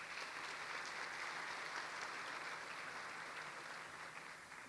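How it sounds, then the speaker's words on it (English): Audience applause fills an awards ceremony hall, a dense, steady wash of clapping that holds loud for the whole stretch and only eases slightly at the end. "Let's give them a round of applause."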